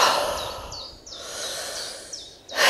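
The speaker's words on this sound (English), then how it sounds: "I can hear the birds singing" Birds singing outdoors on a spring hike near Sandford, a repeated series of thin descending chirps at a steady rhythm over soft rushing background noise, ending in a brief burst of noise.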